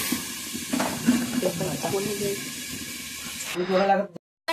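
Pointed gourd and potato sizzle and hiss in a hot pan while being stirred, with a voice talking over it; the sizzling cuts out abruptly near the end.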